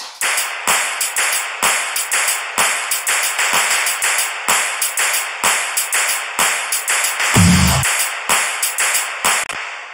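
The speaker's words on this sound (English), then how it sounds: "And now we get the drum sound like this." Processed electronic drum loop for a remix, with sharp, punchy hits repeating in a fast, steady rhythm, loud and up front, with one brief low boom near the end.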